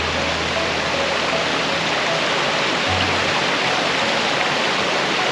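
A waterfall seen from a height, giving a steady, loud broadband roar of rushing water that fills the whole clip without a break.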